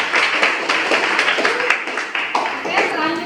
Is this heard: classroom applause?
yes